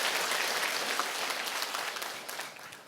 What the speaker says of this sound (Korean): 우리 자신들을 위해서 박수 한번 치도록 하겠습니다